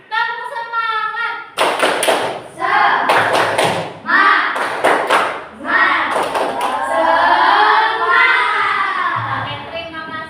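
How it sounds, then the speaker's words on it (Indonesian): Schoolchildren in a classroom doing the 'tepuk semangat' spirit clap, bursts of loud, sharp rhythmic group claps in patterned sets alternating with children chanting and shouting along. "Tepuk semangat."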